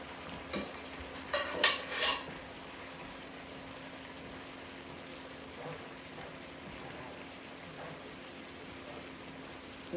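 Garlic butter crab pasta with spinach being stirred in a pan, a few clanks and scrapes of a utensil against metal early on, then a faint low sizzle with occasional soft stirs.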